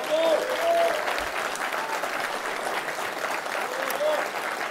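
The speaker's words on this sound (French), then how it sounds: "je pense qu'on peut applaudir notre député" A crowd at a French deputy's New Year greetings event claps in sustained, even applause that continues throughout, with a voice speaking over it.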